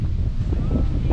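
Strong wind buffets the microphone at a campsite, with tents rattling in the gusts; a steady, loud roar runs through the whole short stretch without pause.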